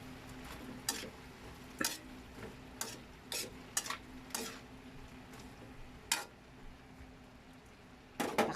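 A spoon stirring food in a frying pan, with repeated scraping strokes at irregular intervals over a steady low hum and faint sizzle, close and moderately quiet, with no talking.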